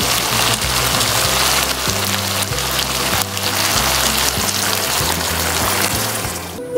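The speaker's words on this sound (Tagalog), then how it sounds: "pwede ko nang lagyan siya ng tubig" Water pours into a pot of chicken stewed with tomato and ginger, a loud steady splashing rush that fills the whole stretch with no talk.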